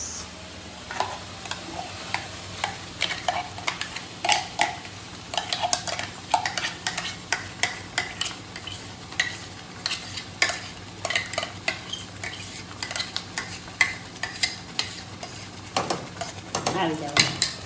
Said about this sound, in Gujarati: આપણે મિક્સ કરી લઈશું ગ્રેવી સાથે પાલકને.